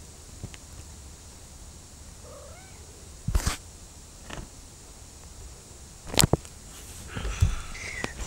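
A house cat meows a few times in short, faint calls, mixed with sharp knocks and rustling handling sounds close by in a quiet room.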